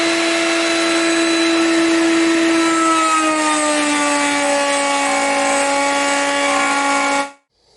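A router table cuts a sliding dovetail in softwood: a loud steady high-pitched router whine that bogs slightly in pitch partway through the cut, then stops abruptly near the end.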